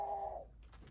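A young feral pigeon gives a single short, soft coo that fades within half a second, faint and close, followed by quiet.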